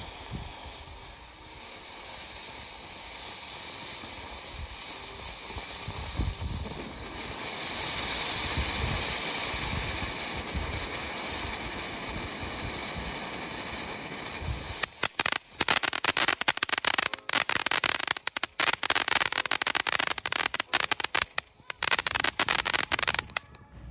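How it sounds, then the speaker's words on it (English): A Game Mode fountain firework by TNT Fireworks, a California Safe & Sane type, gives a steady rushing hiss for about fifteen seconds, then turns into dense, sharp crackling pops that last to the end. "we'll start with game mode, a great little fountain for the price"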